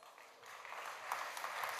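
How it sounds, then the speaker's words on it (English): An audience at a coffee festival applauds, a soft, distant wash of many hands clapping at low volume. "big applause for Mathieu Thijs"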